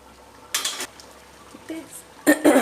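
Fish for a garlic fish masala is laid into a hot frying pan, giving two short bursts of sizzling hiss with light pan clatter, separated by quieter kitchen noise.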